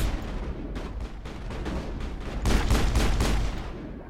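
Rapid gunfire in the video game Mass Effect, a dense run of sharp shots in quick bursts that grows louder and heavier toward the end, with no speech over it.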